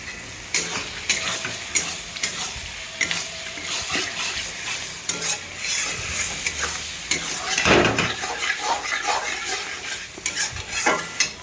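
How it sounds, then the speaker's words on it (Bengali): Paneer being stirred in a pan, with repeated scraping and clinking of a utensil against the metal over a light sizzle, irregular strokes throughout and loudest around the middle. "পনিরটা দিয়ে নাড়াচাড়া করলাম খানিকটা"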